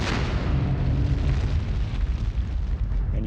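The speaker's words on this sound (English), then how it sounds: "The supernova explosion can be as bright as 4 billion stars like the sun." A booming supernova explosion sound effect, a loud continuous deep roar with rumbling low end that fills the whole stretch without pause.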